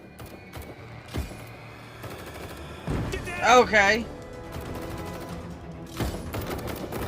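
Scattered sharp gunshot cracks echo at a distance, with a brief spoken word and a louder burst of activity in the middle.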